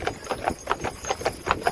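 Four draft horses pulling a hitch wagon at a park farm clop steadily downhill, their hooves striking in a brisk, continuous rhythm close by with no talk over them.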